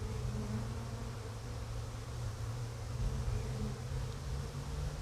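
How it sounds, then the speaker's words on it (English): Honey bees in an apiary around a colony raising queens from grafts: a dense, continuous buzzing swarm close by, steady and loud with slight swells, no voices. "if you can hear the buzz in this apiary, it is incredible"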